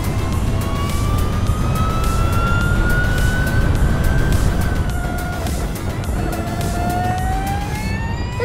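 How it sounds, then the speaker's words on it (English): An electric Formula E race car speeds along a track, its motor whining in a steady rising tone over loud, constant wind rush, with no revving engine note throughout. "There's no sound of a revving engine, just the wind and the whine from the motor."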